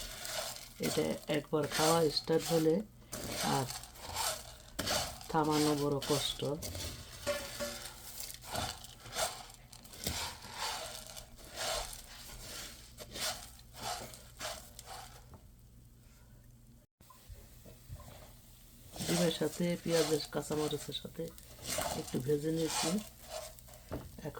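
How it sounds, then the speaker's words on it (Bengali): Fried rice snack with egg and onion stirred in a pan, a soft sizzle and scraping spatula strokes heard under someone talking for much of the time, with a brief quieter pause midway. "এখন চাল ভাজাটা দিয়ে দেবো ডিমটা ভাজা হয়ে গেছে পেঁয়াজটা ভাজা হয়ে গেছে সাথে একটু নাড়াচাড়া দিয়ে নেব"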